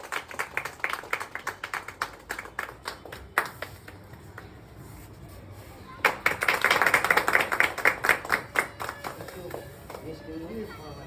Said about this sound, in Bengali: তাকে আপনারা সকলেই করতালির মধ্যে দিয়ে এই শুভ মুহূর্তকে